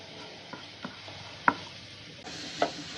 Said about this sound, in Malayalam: എണ്ണ ചൂടായി വരുമ്പോൾ നമുക്ക് മുന്തിരി ഒന്ന് വറുത്തെടുക്കാം കേട്ടോ.